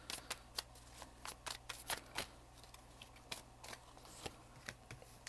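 Tarot cards shuffled by hand during a reading: quiet, close, crisp riffling flicks and slaps in an irregular run with no voice over them.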